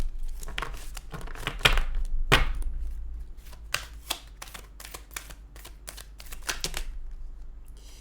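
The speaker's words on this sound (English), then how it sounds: "That's just me dropping them again." Tarot cards riffled and dropped during a reading, giving a run of crisp, rapid papery slaps and flutters in uneven bursts, close and moderately loud with no talking.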